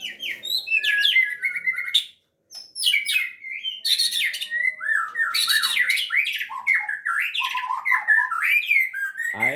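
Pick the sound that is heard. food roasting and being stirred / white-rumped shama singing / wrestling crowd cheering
white-rumped shama singing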